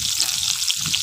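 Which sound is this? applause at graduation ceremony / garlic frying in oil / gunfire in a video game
garlic frying in oil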